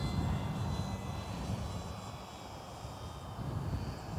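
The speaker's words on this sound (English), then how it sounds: "I think I'm just going to have to land the aeroplane and the chase plane does what it does." Model aeroplane engine droning steadily in flight, fairly faint and distant, a continuous buzzing hum that swells slightly at the start and end.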